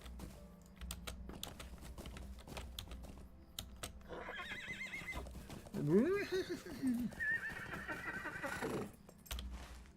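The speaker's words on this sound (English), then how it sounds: "What is up with you, noisy horse?" A horse whinnies loudly partway through in the game Lord of the Rings Online, amid rapid keyboard typing and clicking, with game sounds and some talk around it.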